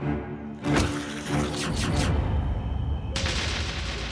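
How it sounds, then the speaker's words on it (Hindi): A sharp gunshot-like blast cracks out, followed by a rumbling, noisy burst of dramatic effects that swell and continue to the end. "तुरंत गोली चला दी"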